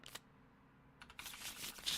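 A deck of playing cards is shuffled at a card tournament table: a short flutter of card noise at the start, a brief pause, then a denser rising burst of riffling and rustling near the microphone.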